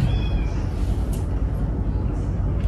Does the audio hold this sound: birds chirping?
no